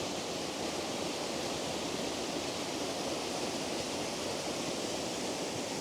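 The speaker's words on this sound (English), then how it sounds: "Some nice waterfalls up here" A waterfall in Alva Glen, Scotland, gives off a constant broadband rush of falling water, steady and unbroken, with no voices.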